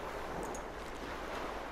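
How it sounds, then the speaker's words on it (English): Sea waves ambience from the video game The Last Door, a soft steady wash of surf and wind at low level with no voices. "Okay, that's sea."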